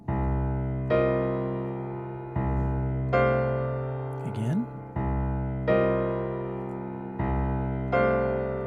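Piano plays two harmonized minor chord voicings in alternation, each a ringing sustained chord struck about every second and a half and left to decay, with one brief spoken word midway.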